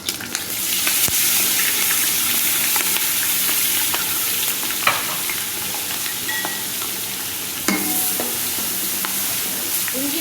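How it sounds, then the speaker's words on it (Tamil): Ginger garlic paste sizzles and fries steadily in hot oil for a chicken biryani, a dense close crackle running the whole time with occasional stirring scrapes and clinks. "பூண்டு பேஸ்ட் போட்டதுக்கப்புறம் நல்லா எண்ணெய் பிரியிற அளவுக்கு நல்லா வணக்கிக்கோங்க"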